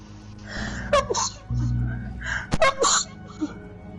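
A single sharp sneeze from a man among a few short breaths and voiced sounds, close to the microphone, with a low game hum underneath.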